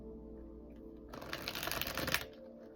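A deck of cards is shuffled for a one-card pull reading: one quick riffle burst of about a second, close and crisp in an otherwise quiet room.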